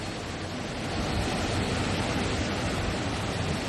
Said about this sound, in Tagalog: Lakas pa rin ang alon.